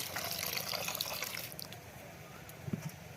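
Water runs into a container to soak soybeans, giving a steady splashing pour that fades into softer drips and small sloshes toward the end.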